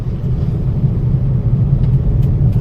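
Steady low engine and road rumble of traffic in Belapur, Navi Mumbai, heard from inside a car, fairly loud and continuous with no voices.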